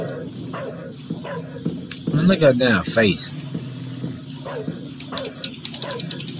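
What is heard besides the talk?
dog barking and whimpering in a video game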